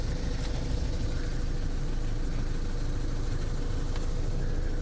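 A 2012 Volkswagen Golf engine idles steadily at close range, a smooth continuous low rumble that holds an even pitch without surging for several seconds.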